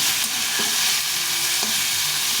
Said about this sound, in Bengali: ভালো করে একটু ভেজে নিতে হবে